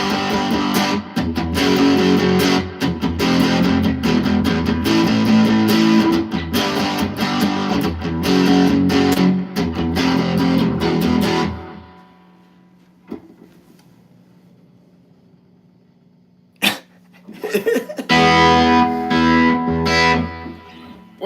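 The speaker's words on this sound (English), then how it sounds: "Do I have distortion? Yeah, that's distortion" An electric guitar driven through heavy distortion plays loud, dense chords for about twelve seconds, falls to near silence with a lingering hum and one sharp hit, then crashes back in with more distorted strumming.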